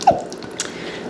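Salad dressing squeezed from a plastic bottle for a summer pasta salad, a single wet squirt and splat up front followed by faint quiet liquid trickling, close and brief.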